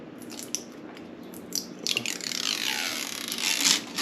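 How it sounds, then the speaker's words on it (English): Shrink wrap peeling and crackling off a Walmart glass bottle after heating, a run of small scratchy crinkles that builds into a steady, louder tearing rasp toward the end, close and with no talking. "peel the shrink wrap off, or attempt to peel the shrink wrap off"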